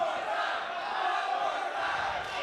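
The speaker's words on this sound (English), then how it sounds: "The crowd here in the Hoboken Auditorium asking for one more time" A wrestling crowd at the Hoboken Auditorium chants loudly and continuously, a dense roar of voices sustained without a break.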